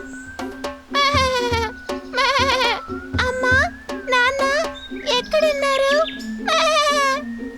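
A lost young lamb bleats repeatedly in wavering, high cries, loud and close, in a children's bedtime story.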